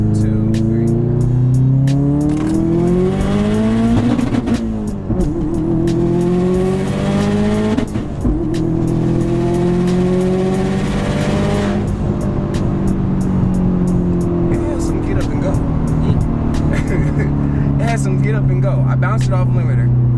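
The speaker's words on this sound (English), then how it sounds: "So I'm gonna do a second gear pull into second gear." A 2015 Subaru WRX STI pulls hard in second gear, its loud engine note climbing in pitch in repeated sweeping rises toward the rev limiter, with voices talking over the steady roar.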